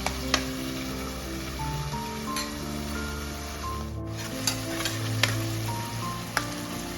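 Ingredients roast in a pan for Kolhapuri mundi rassa, making a soft sizzle with scraping and stirring taps scattered through, close and fairly quiet with no talk.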